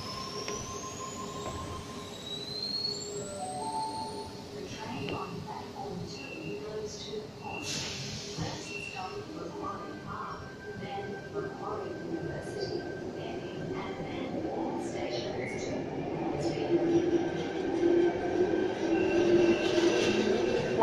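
A Sydney Tangara electric train pulls out of a station, a broad rumbling and rising whine with wheel noise that grows louder toward the end, with tonal station sounds and announcements over it.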